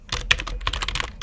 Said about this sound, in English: I'm going to type in test.txt